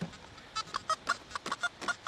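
Squeezed toy doll letting out a run of short clucking chicken squeaks, about a dozen quick, evenly spaced bursts, close and moderately loud with no talk.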